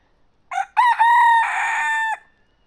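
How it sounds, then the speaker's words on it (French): A single nearby chicken gives a loud, drawn-out squawking call, a short note then a longer sustained cry, alone in quiet. "celui-là je sais pas encore si c'est une poule ou un coq"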